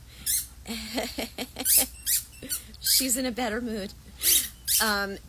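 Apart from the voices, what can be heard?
dog squeaking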